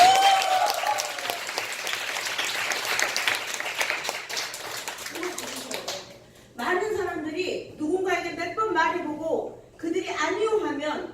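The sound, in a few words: audience applause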